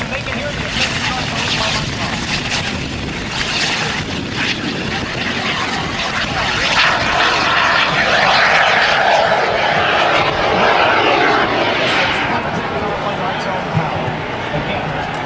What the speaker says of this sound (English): Again, 40-pound small jet engine on the back.